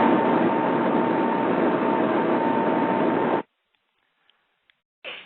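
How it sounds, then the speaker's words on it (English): Receive audio is opened on a ham radio before calling the ISS: a loud, steady hiss of static that cuts off sharply, then faint clicks and a short burst of hiss again. "I will open the receive audio on my radio, which sounds like this."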